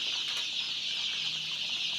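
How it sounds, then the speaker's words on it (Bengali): Tiger-breed chickens raised for meat cluck steadily at close range on a farm, the calls continuous and fairly loud against a bright, hissy background. "এটি কিন্তু অরিজিনাল টাইগার মুরগি।"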